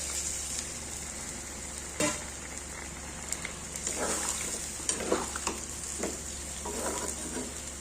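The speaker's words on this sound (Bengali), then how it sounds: "এবার জল দিয়ে দেবো এঁচোড় ভেজে আলু ভেজে" Raw jackfruit and potatoes cook in a pan after water is added, giving a quiet, steady sizzle with a few soft clinks and stirring scrapes scattered through it.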